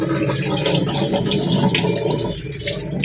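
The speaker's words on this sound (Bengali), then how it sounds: "চাল আর ডাল ধোয়া হচ্ছে" Rice and lentils rinsed together under a running kitchen tap for khichuri, a steady close splashing of water filling and washing in a sink, continuous throughout.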